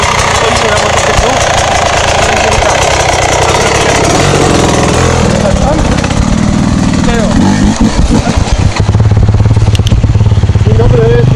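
Enduro motorcycle engine running loud and close, its steady drone shifting partway through as the pitch settles, with people talking over it.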